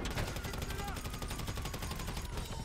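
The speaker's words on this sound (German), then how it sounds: "Achtung, die schießen auf uns." Gunfire during a bank heist shootout in GTA 5 Online: rapid, continuous automatic shots pulse steadily and loudly across the whole stretch, with a voice faintly mixed in.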